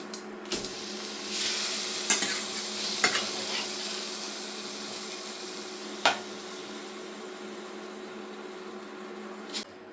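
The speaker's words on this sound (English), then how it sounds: "Now we will flip this chicken breast." Bacon-wrapped chicken breast sizzles steadily in a frying pan, with a few sharp clinks and scrapes of a utensil against the pan at irregular moments, close and fairly quiet.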